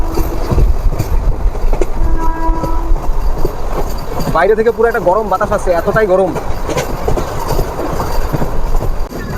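A Rampurhat–Jasidih MEMU special passenger train runs along the line, a loud close rumble with rhythmic clickety-clack of wheels, while a person talks over it in the middle.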